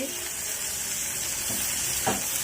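Chopped green chillies frying with softened onions in a pan for cauliflower kachori filling, a steady close sizzle with a couple of soft stirring scrapes.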